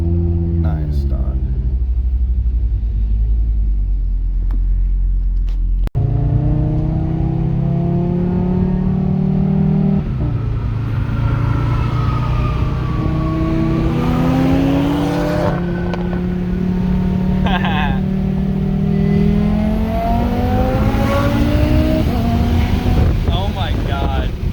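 A built Audi TTRS accelerates hard through the gears, its loud engine note climbing in pitch, dropping at each shift, then climbing again, with wind rumble and people talking over the roar.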